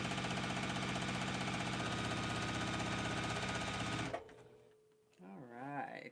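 A sewing machine stitching a quilt block runs in a fast, even mechanical rattle, close and steady for about four seconds before stopping, followed by a person's voice.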